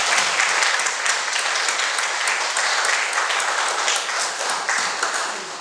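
Church congregation applauding the choir after a hymn during a Sunday service, a dense, steady wash of clapping from many hands that holds evenly throughout before easing slightly at the end.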